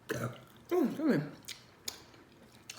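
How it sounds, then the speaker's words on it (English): Wet burps and mouth noises while eating seafood at close range, with a couple of drawn-out belches followed by small smacking sounds. "Slurping and burping."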